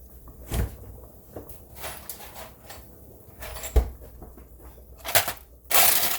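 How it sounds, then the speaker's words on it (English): Ice for a smoothie being fetched: intermittent knocks, clunks and rattles of a freezer or cupboard and loose ice cubes, ending in a louder crunching clatter, close by with no speech. "Let me grab some ice for this smoothie"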